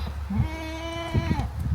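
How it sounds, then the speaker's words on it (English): Goats bleat in a rainy farmyard setting, one long wavering bleat carrying through the middle of the clip, close and fairly loud over a steady background hiss. "You're gonna meet some new goat friends right now."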